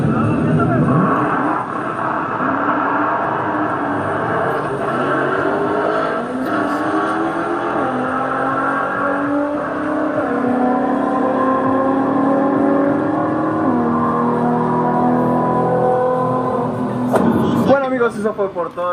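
Shelby GT500 with a TR-6060 manual transmission driving and shifting gears, engine note rising and dropping through several shifts, loud and steady throughout.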